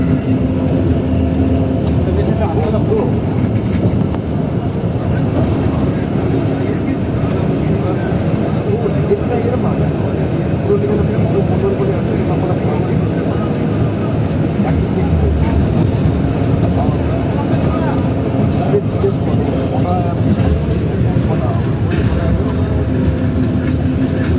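Steady low rumble of an AC bus engine and road noise on the highway to Digha, continuous and fairly loud throughout, with faint voices mixed in.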